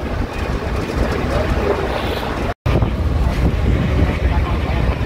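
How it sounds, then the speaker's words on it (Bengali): Strong wind roars into an NBSTC Rocket bus speeding on an open road between Kolkata and Siliguri, a loud, steady rushing buffet with a voice underneath and a brief dropout midway. "বাইরে থেকে প্রচন্ড হাওয়া আসছে"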